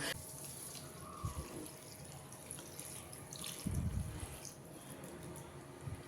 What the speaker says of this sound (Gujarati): એકાદ એક લીટર જેવું મેં પાણી નાખી દીધું છે અંદર